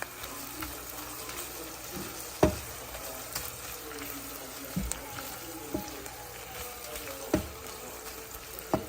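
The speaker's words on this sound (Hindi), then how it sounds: "साबुत लाल मिर्चें, हरी मिर्चें, लहसुन अदरक डाल दिया और इसको ज़रा सा तब तक भून लूँ" Whole red chillies, green chillies, garlic and ginger fry in hot oil with a continuous close sizzle, punctuated by occasional sharp pops and clinks of a spoon against the pan at irregular intervals; no talking.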